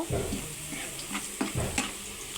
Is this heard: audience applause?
no